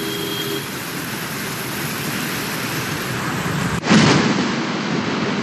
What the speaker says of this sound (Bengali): ব্যাপক ঝড় সঙ্গে বৃষ্টি।